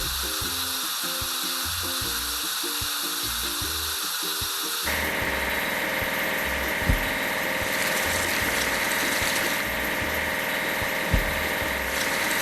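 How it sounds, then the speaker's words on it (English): An excavator engine idles steadily, joined partway through by a louder, brighter mechanical whir with a couple of sharp knocks, over a musical background. "Excavator."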